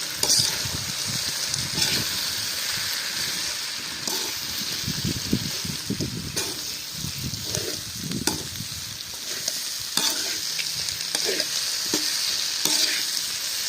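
Mushroom masala fries in a pan with steady sizzling while a spoon stirs and scrapes it in irregular bursts, close and fairly loud, with no talking.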